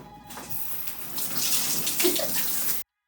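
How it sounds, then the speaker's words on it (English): Shower water running and rinsing, a steady close hiss of spray that swells slightly before cutting off abruptly. "I'm gonna rinse."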